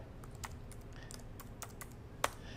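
Close, quiet typing on a computer keyboard, a quick run of light irregular key clicks with one sharper tap near the end.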